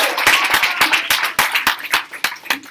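A round of applause from a small crowd at the grand opening of a Columbus office, close, lively clapping with distinct individual hand claps, loud and uneven, with no talk over it.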